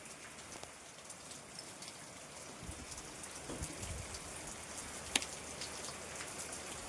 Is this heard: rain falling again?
yes